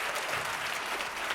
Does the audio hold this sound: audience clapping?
yes